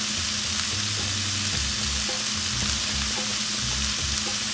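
Cumin seeds sizzle in hot oil at the start of a fish curry, a dense, steady frying crackle heard up close throughout, with faint stirring beneath.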